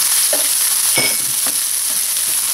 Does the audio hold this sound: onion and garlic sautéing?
yes